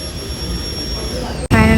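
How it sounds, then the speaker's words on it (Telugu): Steady roar of an airplane jet engine during a flight departure, loud and continuous with a high whine, then a brief cut followed by a louder, harsher engine tone near the end. "చిన్న చుట్కో ఫ్లైట్ వెళ్తుంది చూపిస్తాను"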